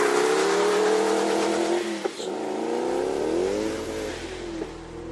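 A 2010 Noble M600 supercar revving hard, engine note climbing and shifting through gears with sweeping pitch rises, loud and close, alone without talk.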